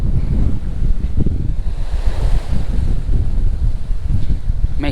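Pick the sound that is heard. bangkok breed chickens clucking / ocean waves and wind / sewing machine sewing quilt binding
ocean waves and wind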